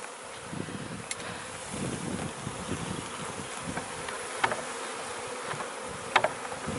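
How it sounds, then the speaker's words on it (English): A honey bee swarm is scooped and shaken into a second beehive on a homestead, giving a dense, steady buzzing hum throughout, with a few brief sharp knocks and thumps over it. "We're going to attempt to catch our own swarm in this second hive"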